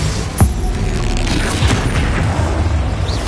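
Bombarda spell explosion in a Hogwarts video game: a sharp blast burst near the start, followed by a dense rumbling roar and scattered impacts that carry on to the end.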